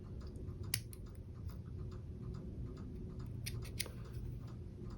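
Scissors trim thread and fibers while tying a Sparkle Emergent Pupa fly, giving a few faint, sharp snips over a quiet, steady background hum.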